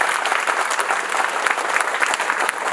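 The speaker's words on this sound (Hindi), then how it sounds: "सभी लोग एक बार ताली बजाएं कि बहुत मेहनत करी गई है" Audience applause at an IIMT University Meerut offer letter distribution ceremony, a steady dense wash of many hands clapping at once, even and sustained throughout without voices.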